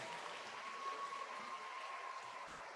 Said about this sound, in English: Can you put your hands together one more time for our development band